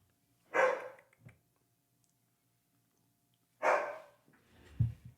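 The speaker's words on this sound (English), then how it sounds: "It's a dog barking." A dog barks twice with a long pause between, each bark sharp and fairly close, followed by a soft thump and rustle in an otherwise quiet space.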